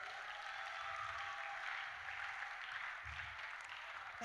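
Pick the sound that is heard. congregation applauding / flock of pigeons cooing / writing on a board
congregation applauding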